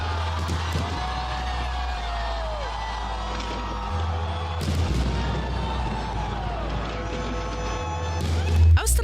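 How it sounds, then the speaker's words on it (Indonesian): Deep booms and crackling bursts of New Year fireworks over the River Thames near the London Eye sound repeatedly over a loud, cheering crowd, with whistling streaks rising between the blasts. "Puluhan ribu orang menyaksikan pertunjukan kembang api di sepanjang Sungai Thames"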